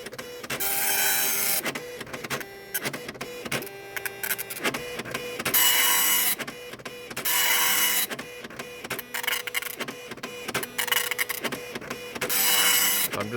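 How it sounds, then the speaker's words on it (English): A Citizen GSX-140 dot matrix printer prints text close by with bursts of harsh, buzzing chatter. Short pauses and mechanical shuffles break up the bursts, and no one talks. "So I'm just printing text right now."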